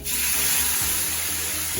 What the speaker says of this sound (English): Now I'm going to pour the water on it